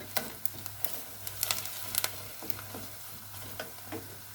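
Tomato paste sizzles in a pan with cooked onions as a spoon stirs it, a steady close frying hiss dotted with sharp scraping ticks and pops.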